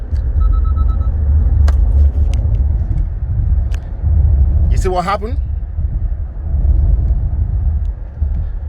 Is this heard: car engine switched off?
yes